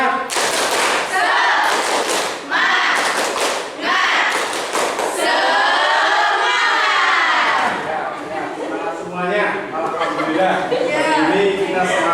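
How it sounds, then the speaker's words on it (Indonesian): A school class performs a 'tepuk semangat' spirit clap chant during an Islamic religious education lesson, with loud clustered clap bursts mixed with children shouting and chanting in unison, close and energetic. "Mari kita tepuk semangat dulu."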